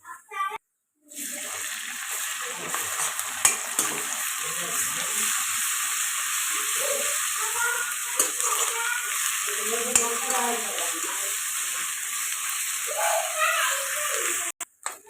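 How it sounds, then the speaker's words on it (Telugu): Ginger garlic paste sizzles steadily with onions in a pan for chicken dum biryani, a continuous loud fry with scattered spatula scrapes and stirring knocks, alone without talk. "ఇప్పుడు ఒక పెద్ద స్పూన్ అల్లం వెల్లుల్లి పేస్ట్ అయితే వేసుకుంటున్నాను ఇది పచ్చివాసన పోయేదాకా ఫ్రై చేసుకున్నాను"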